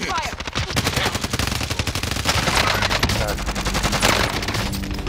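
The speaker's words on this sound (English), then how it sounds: "Receiving hostile fire." Dense, continuous automatic gunfire fills a Call of Duty: Modern Warfare firefight, loud rapid bursts overlapping with explosions and game voices.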